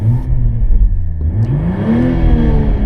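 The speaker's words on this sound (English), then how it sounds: "let's do a quick rev while we're here" A 2024 Toyota GR Supra (A91) B58 engine with manual transmission revs up sharply, its pitch climbing and falling in a loud, close roar.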